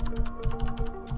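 Rapid typing on a Logitech G710+ mechanical keyboard with Cherry MX Brown switches: a steady run of close, crisp clacking keystrokes at an even pace, with a faint tonal hum underneath.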